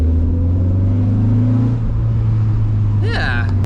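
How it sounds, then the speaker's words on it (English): A car with a stock KA engine of about 130 horsepower cruises with the windows down, its exhaust giving a steady, droning rumble heard from inside the cabin, close and fairly loud. "Listen to the exhaust with the windows down."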